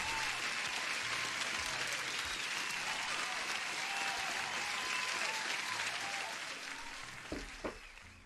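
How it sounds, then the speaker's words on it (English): Dense, steady applause from a crowd, played out for a trader during a live futures trading stream, continuing evenly before fading toward the end, where a couple of louder thumps break through. "Applause for Crypto Panda."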